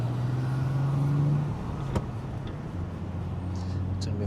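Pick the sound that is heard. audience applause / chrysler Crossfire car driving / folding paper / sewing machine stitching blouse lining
chrysler Crossfire car driving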